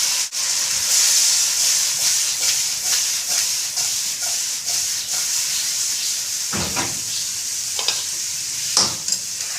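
Okra frying in spices in a pan with tomatoes, chillies, tamarind and onion added, giving a steady close sizzle with intermittent stirring scrapes and no talk.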